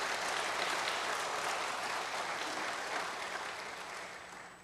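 A church congregation applauds loudly after a choir's hymn, dense steady clapping filling the room and slowly tapering toward the end.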